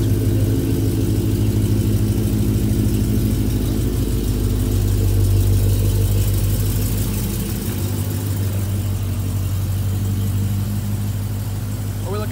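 A supercharged 2018 Dodge Challenger with an aftermarket exhaust idles loudly and close by, its deep, steady rumble holding level throughout with a slight dip near the end.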